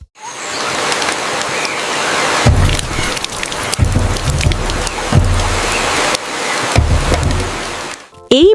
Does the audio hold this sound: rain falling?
yes